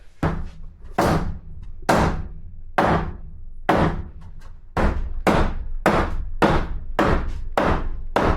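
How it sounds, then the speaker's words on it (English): Heavy hammer blows strike wood at a steady rhythm, about ten solid thuds, close and loud with brief ringing between strikes. "Now we actually may have to hammer"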